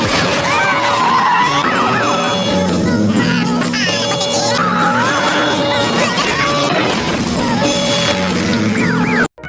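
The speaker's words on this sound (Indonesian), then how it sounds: "Hingga akhirnya mobil mereka dikejar oleh para polisi." Police chase a getaway car in the animated Minions film, with loud continuous screeching tyres, engine noise and crashes layered over a busy orchestral score.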